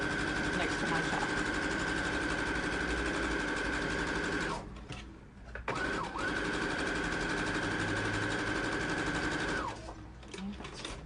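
Sewing machine running steadily while stitching a seam on a knit bathing suit cover-up, a continuous whirring hum with a brief pause midway and another near the end, close and loud.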